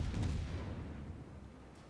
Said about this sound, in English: You're actually attempting to shoot me.